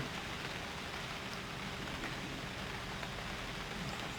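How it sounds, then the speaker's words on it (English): Steady rain hisses and patters continuously in the survival video game UnReal World, an even, dense wash of sound with no talking. "Oh no, raining again."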